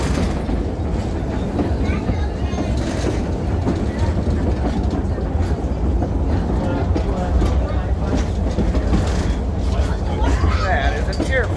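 A Christmas farm ride train runs slowly on rain-wet tracks, giving a continuous close rumble and rattle of cars with faint clatter, while people talk over it throughout.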